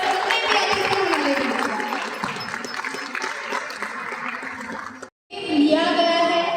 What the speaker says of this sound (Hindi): एक बार जोरदार तालियां बजाएंगे जितने भी पार्टिसिपेंट, जजेस और जितने भी अतिथि